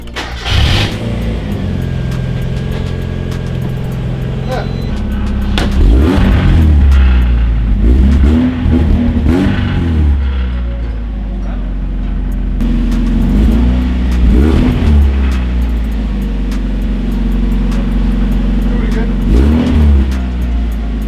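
A Mazda Miata engine runs steadily close by, rising in a few revving swells over its idle, while people talk throughout.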